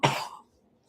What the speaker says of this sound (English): sorry, I'm like coughing.